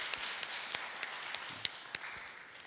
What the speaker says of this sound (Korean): 우리 다시 한번 박수로 격려해 주시기 바랍니다